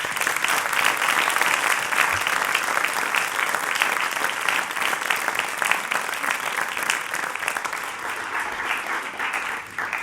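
An audience at a metalworking craft academy morning session claps loudly and steadily for about ten seconds, the dense applause fading slightly toward the end.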